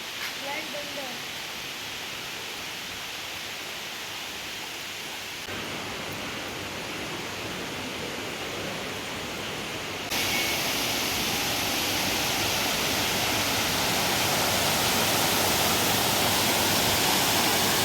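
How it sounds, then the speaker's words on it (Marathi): Continuous rushing of water falling into a temple pool, splashing steadily and close, growing louder partway through. "हे पाणी पडतं ना इथे कोपऱ्यात"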